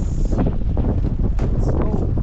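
Strong wind buffets the microphone on an island coast during a spearfishing outing, a loud continuous low rumble with gusty surges and faint rustling throughout.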